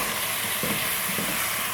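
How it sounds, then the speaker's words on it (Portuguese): Chopped garlic and meat frying in a hot pan for virado de feijão, a loud steady sizzle with a couple of brief bursts as the food is stirred or moved, close by and without talk. "o alho tá bem fritinho"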